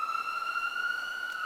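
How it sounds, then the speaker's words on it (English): A steady electronic siren holds one unwavering high tone with clear overtones, loud and continuous with no rise or fall, sounding alone without voices. "Sirens, always."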